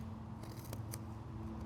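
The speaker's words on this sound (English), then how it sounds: "Now we'll take our scissors and we'll go ahead and cut" Scissors cutting a paper template for a kumihimo bracelet, a few quiet close snips over a steady low room hum.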